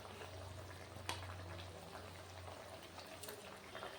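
Soybeans and potatoes simmering in spiced, salted water, a soft continuous bubbling and low rumble close by, with a brief clink partway through and no speech.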